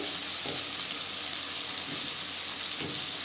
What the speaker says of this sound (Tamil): தண்ணி சேர்த்துக்கணும் காய் வேகிற அளவுக்கு